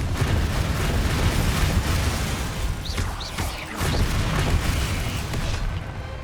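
Confringo fire-blast spells cast in the Hogwarts Legacy game, heard as a dense, continuous roaring rumble with bursts and crackles layered throughout, loud and steady for the whole stretch with no talk.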